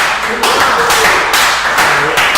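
A sales meeting audience claps in bursts of dense applause, loud and close, with a few pauses between waves and no clear cheering voices.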